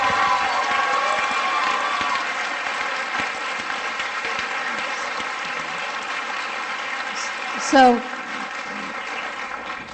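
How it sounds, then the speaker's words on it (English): Sustained audience applause with some cheering at a town finance board public hearing, steady throughout; a voice briefly cuts in near the end. "I get that everybody wants to applaud, but I would ask that maybe we could hold it to the end"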